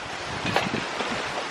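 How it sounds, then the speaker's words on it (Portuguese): Strong wind gusting across the microphone outdoors at a country farmstead, a continuous loud rushing roar with small swells and no pauses. "Gente, olha a ventania que tá."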